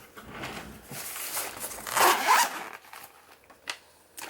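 A pencil case zipper is pulled open in one long, fairly close ripping run with uneven teeth clicks, followed by a few faint rustles and crinkles from inside the case.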